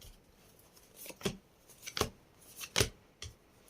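Several crisp card snaps and slides, spaced irregularly, close and fairly quiet with no talking.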